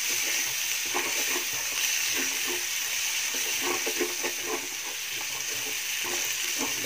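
Tomatoes and masala sizzle in a hot frying pan while being stirred for stuffed eggplant in yogurt gravy, a steady close hiss of frying broken by soft, repeated spatula scrapes, with no talk.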